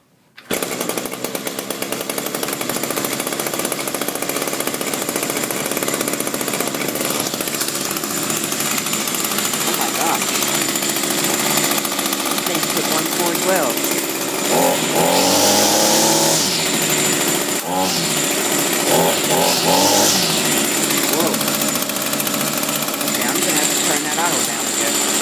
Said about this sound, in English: It is idling, I'd say, a little bit fast.